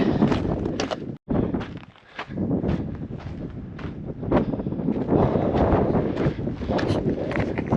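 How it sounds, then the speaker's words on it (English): Gusty wind on a mountain trail at about 11,500 feet buffets the microphone in a steady, loud roar, with a brief dropout early on and no talking. "Getting windy."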